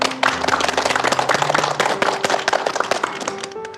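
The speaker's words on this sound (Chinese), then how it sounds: "让我们给他们2位鼓鼓掌" An audience claps for two people at a support meeting for Huntington's disease patients and their families, producing dense, loud applause that runs throughout and thins slightly at the end.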